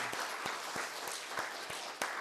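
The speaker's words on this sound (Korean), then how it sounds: "우리 하나님 앞에 박수 한 번 더 드립시다" Church congregation applause during a Korean Presbyterian revival service, faint sustained clapping with a few sharper individual claps standing out in a loose rhythm.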